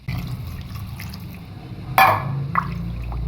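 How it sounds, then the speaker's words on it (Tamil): Water is splashed into a pot of mutton curry being made for butter mutton tikka. A short splash stands out over a steady low kitchen hum, followed by a smaller trickle a moment later. "இன்னுமே கொஞ்சம் தண்ணி சேர்த்துக்கிறேன்."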